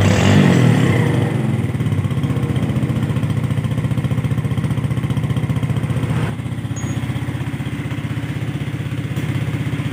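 A Yamaha Jupiter motorcycle engine runs steadily at close range, its throttle opened and held with a loud, even mechanical drone and clatter, briefly dipping midway before resuming alone.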